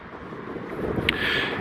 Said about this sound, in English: I apologise about the wind again